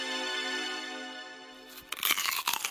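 A chocolate sweet bun shaped like a bug is bitten with a burst of crisp crunching after a sustained tonal hum, close and fairly quiet.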